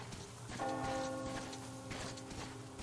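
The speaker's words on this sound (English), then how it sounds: "Do you hear that bell?" A bell in the video game Metro Exodus rings with a sustained, resonant tone over a soft rainy background, fairly distant and low in volume.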